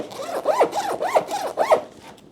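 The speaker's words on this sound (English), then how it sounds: "These they are not YKK zippers, so they're just some generic zippers." Generic zippers on a wax canvas tool roll are run back and forth about five times in a quick rhythm, each a close, rasping zip of rising and falling pitch, with no talk.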